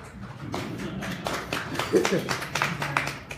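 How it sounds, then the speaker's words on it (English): Scattered clapping from people at a community association's annual meeting runs for a few seconds, moderately loud and irregular, with voices talking over it. "You get a round of applause"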